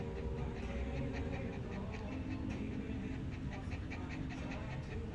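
Marshmello, a dog at a salon getting pet-safe Halloween hair color, pants in rapid, steady breaths, close and continuous over a busy background.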